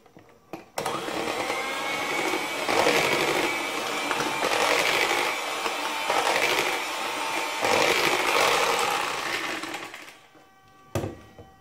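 Cake batter for a marbled cake is beaten with an electric mixer after adding oil, producing a steady whirring motor hum that rises and falls for several seconds before stopping, with clicks at start and end.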